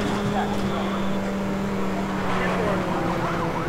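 A Ford GT racing in NFS Most Wanted 2012: a steady, loud engine drone holds throughout, with a police siren wailing over it.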